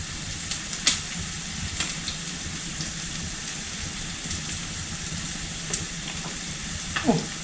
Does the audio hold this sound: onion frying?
yes